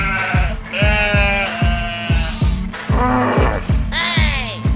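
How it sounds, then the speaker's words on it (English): A goat bleats in a loud, quavering cry, repeated several times over a steady rhythmic thumping, with no talking. "This is a goat."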